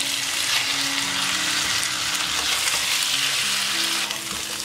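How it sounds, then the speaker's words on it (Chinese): Tofu pan-fries in oil in a wok with a steady, bright sizzle and crackle, a continuous close frying hiss with faint low tones from a voice or music underneath. "把豆腐放入锅内煎一下"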